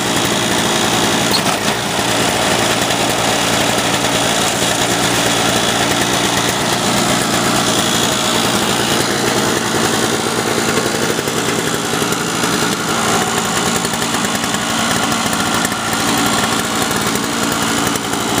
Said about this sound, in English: let me fire it up here. There you go. Runs great.